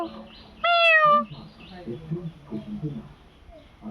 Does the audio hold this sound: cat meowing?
yes